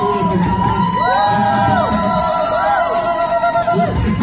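A crowd at a salsa social in Houston whoops and cheers to welcome a performer, with excited shouts rising and overlapping over the general roar throughout.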